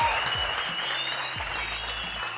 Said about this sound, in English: another round of applause just for getting to this particular point